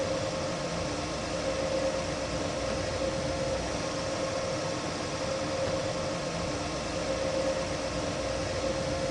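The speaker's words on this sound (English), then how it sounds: "Oh, the struggle of this train." In the Train Sim World video game, a long freight train strains to pull away under throttle, giving a constant loud mechanical drone with a steady humming tone and no change in pace.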